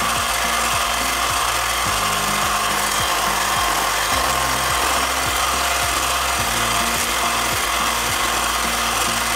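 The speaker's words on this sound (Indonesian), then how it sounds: "kocok telur ayamnya menggunakan speed yang paling tinggi hingga" An electric hand mixer beats eggs at its highest speed, making a continuous loud whir with repeated rhythmic scraping and rattling from the beaters against the bowl.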